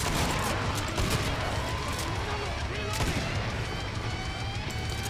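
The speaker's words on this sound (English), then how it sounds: "Shotguns are so good." Rapid, heavy shotgun blasts from Killing Floor 2 fire in quick succession, loud and dense, layered over chaotic game noise with a voice talking through it.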